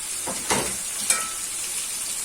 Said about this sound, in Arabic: هنزل بقى اهو احمره كل البصلات بتاعتي